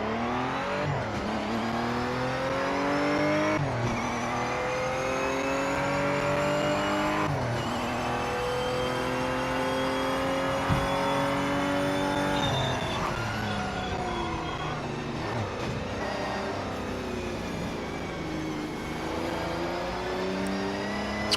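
Race car engine in the Project Motor Racing video game on PS5, loud and continuous. It revs up through the gears and drops on each shift, with no talking over it.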